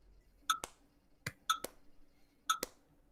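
Hands clapping on the beat during a guitar lesson, a few faint, sharp claps spaced in pairs and singles, alongside quiet metronome-like ticks in a quiet room.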